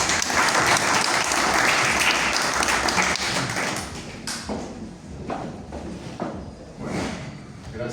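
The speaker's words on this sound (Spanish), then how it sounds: "un fuerte aplauso para Agustín" Audience applause at a book presentation in Salta's Museo de la Ciudad, loud full clapping that thins out midway into scattered claps, taps and shuffling.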